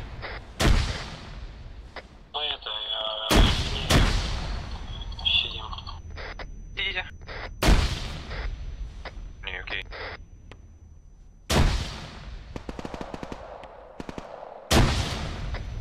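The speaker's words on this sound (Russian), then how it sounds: "сейчас стрелял на западе. Это пулеметчик наш." Gunfire in Arma 3 from a friendly machine gunner shooting to the west: sharp, fairly distant bursts and single shots spaced through the clip over an ambient battlefield bed, with no talking.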